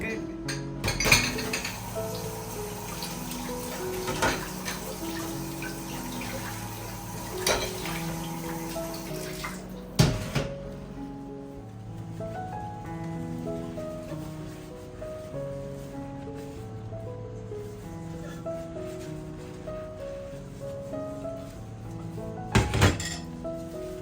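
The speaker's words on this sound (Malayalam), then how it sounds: "ഞാനൊക്കെ ഒന്ന് പാത്രത്തിൽ ആക്കി വെക്കുന്നുണ്ട്" Dishes, pots and cutlery clinking and clattering as food is portioned into vessels in a home kitchen, intermittent metallic knocks and scrapes with occasional louder clanks, fairly close.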